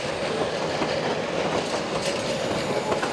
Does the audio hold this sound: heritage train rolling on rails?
yes